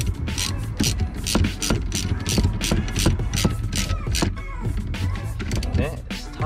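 A ratchet with a 13 socket tightening the battery hold-down bolt on a BMW 328i, giving rapid, repeated metallic clicks in quick bursts, close and clear, with a voice talking over it.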